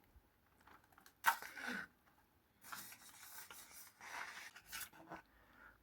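A blunt kitchen knife saws through food with scattered rough, rasping strokes, close and fairly quiet, separated by short pauses.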